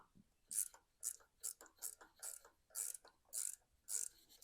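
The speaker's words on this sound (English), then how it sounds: "Just put our ratcheting wrench right up here." A ratcheting wrench clicks about eight or nine times in an even rhythm, each crisp metallic burst close and distinct, during work on a Cub Cadet XT1 starter.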